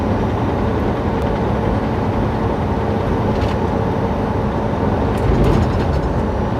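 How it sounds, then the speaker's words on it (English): A BNSF double-stack freight train with a three-engine lash-up rolls past eastbound, a steady broadband rumble and rail roar heard from inside a moving vehicle, continuous for the whole stretch with no talk. "you will see a train, BNSF, I'm sure, headed eastbound."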